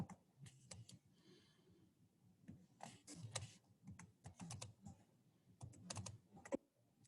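Keys being pressed to enter data values into a calculator, a run of quiet, uneven clicks and taps in bursts, close up and alone with no talk.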